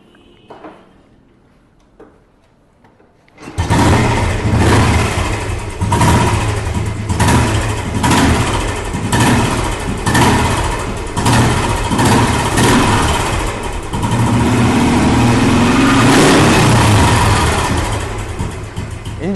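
A 1990s car engine cranks and catches after a few seconds of near silence, then settles into a loud, steady idle with slight rhythmic pulsing and a couple of revs, heard up close with no talk.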